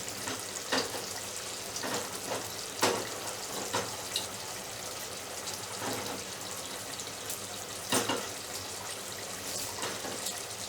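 Two red chillies frying in hot oil for chicken do pyaaza, a steady broadband sizzle with occasional sharper crackles and spatters, close and fairly quiet, with no talking.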